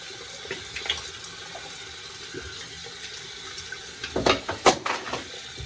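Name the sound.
rinsing with cold tap water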